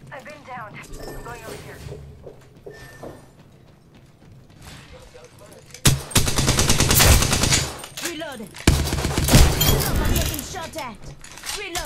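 Rapid automatic gunfire in the video game Apex Legends, long loud bursts of shots with mechanical clatter, while a player talks over the action.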